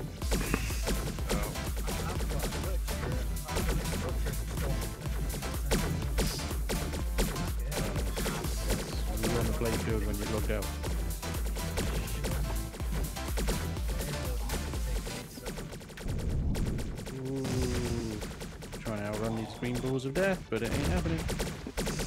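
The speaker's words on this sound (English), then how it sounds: "I'm getting explosions." Rapid game gunfire and explosive blasts crackle constantly under loud background music, with a voice briefly talking near the end.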